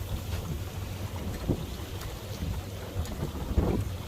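A Tiara 38 LS motorboat runs at idle on the water, a low steady engine rumble under wind across the microphone, with a few faint knocks and splashes.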